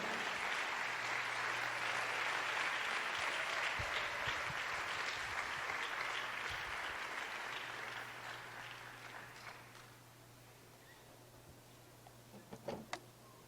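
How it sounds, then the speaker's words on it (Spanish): A church congregation claps in sustained, dense applause for around eight seconds, slowly thinning out to a few scattered claps and quiet room noise. "Dale fuerte el aplauso al Señor."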